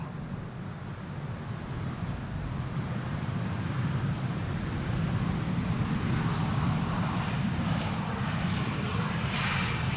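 An Airbus A320neo lands at Amsterdam Schiphol on runway 18R Polderbaan in gusty weather, its engine roar a broad, steady rumble that grows slightly louder and holds throughout, with no voices.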